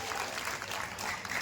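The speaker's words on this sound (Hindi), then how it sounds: "एक बार बहुत जोर से तालियां आज रामलीला कमेटी के लिए बजाएं" Audience applause at a Ramlila stage performance of Shri Ram's coronation in Bharatpur: a steady burst of many hands clapping together, fairly close and continuous throughout.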